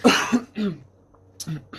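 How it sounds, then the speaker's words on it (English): A few close, raspy coughs from a person with bronchitis, followed by a throaty clearing sound, short bursts separated by brief pauses. "I'm sorry for the clearing my throat constantly and the coughing"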